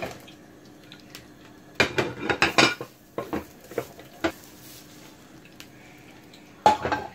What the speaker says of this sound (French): je vais prendre une assiette, je vais renverser l'omelette dans cette assiette